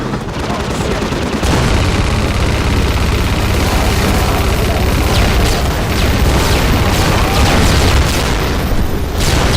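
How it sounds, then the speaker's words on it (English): Heavy minigun in the shooter game Hunt Down The Freeman firing a loud, dense continuous barrage that starts abruptly after a brief lead-in and keeps roaring steadily for several seconds, alone without talk. "you get your minigun. This is my weapon. I am heavy weapons."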